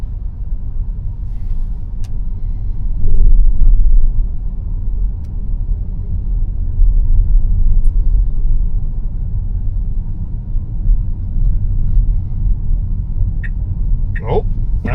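Tesla car on FSD 14.2.2 driving itself through a Disney parking garage, a steady low engine-free road rumble and tire hum filling the enclosed space, with a brief squeal near the end.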